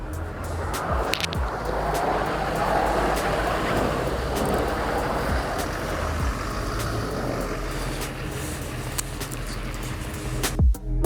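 A Hummer H1 Alpha pulls into a shop on a snowy day, a steady broadband engine and tire rumble holding for several seconds before a sharp, loud knock at the very end.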